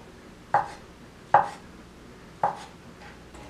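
A knife chops mushrooms on a cutting board in separate, unhurried chops, four sharp knocks spaced about a second apart, close and clear.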